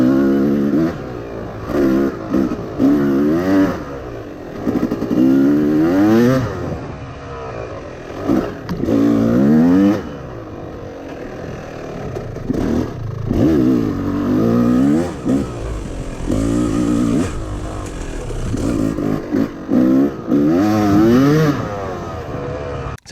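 A Yamaha YZ250 two-stroke dirt bike fitted with an 11 oz flywheel weight revs repeatedly in loud bursts, the engine rising and falling with short pauses between throttle blips.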